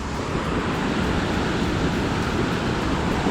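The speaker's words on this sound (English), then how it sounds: "This is where you have to cross the creek the second time." Creek water in the Rocky Mountains rushing at a hiking crossing, a loud, steady roar that fills the whole moment with no talk over it.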